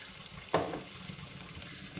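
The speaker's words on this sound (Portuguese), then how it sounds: "eu vou dar pra fritar aqui a calabresinha" Calabresa sausage sizzling in a pan with a splash of water, a sudden hiss bursting at about half a second and then settling into a steady, fairly quiet frying crackle.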